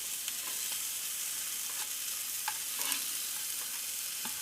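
Mushrooms and onions sizzle steadily in a pan with a continuous hiss, broken by occasional light scrapes and taps as the food is stirred and cut, close and even in level.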